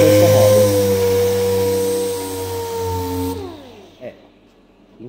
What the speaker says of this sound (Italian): In questo caso userò una levigatrice vera e propria orbitale e non una lucidatrice